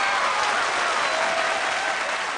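A studio audience at a televised singing talent show applauds loudly and densely, a steady wash of close clapping lasting the whole moment without any talking.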